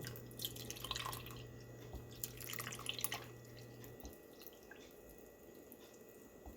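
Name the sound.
pouring milk into clam chowder pot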